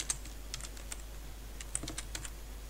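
Keys tapped on a computer keyboard while entering words into a Python rock-paper-scissors game, a sparse, irregular run of light clicks at moderate distance with a steady low hum underneath and no talking.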